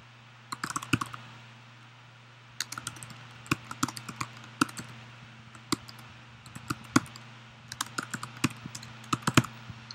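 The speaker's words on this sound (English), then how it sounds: "we are going to type in a command." A command is tapped out on a computer keyboard to extract files from an old iPod, with sparse, separate keystrokes and short runs of clicks, close and dry over a steady low hum.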